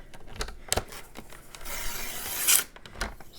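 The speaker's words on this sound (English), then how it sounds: "So I'm just going to trim it down to 8 1/4." Paper sliding and rasping under a paper trimmer while a sheet is cut for a junk journal page, with scattered close clicks and a brief rising scrape of the blade near the end, and no talking.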